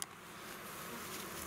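A small honeybee swarm drones in a steady, faint, continuous buzz that holds evenly for a moment, with no voices.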